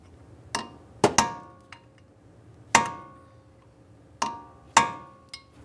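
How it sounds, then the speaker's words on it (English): Sharp metallic hammer strikes on a punch peening a nut on a 2006-2012 Ford Fusion steering knuckle, six or seven ringing blows at irregular intervals, each decaying quickly, close by with no speech. "We'll continue with our hammer and punch, drive this down and in."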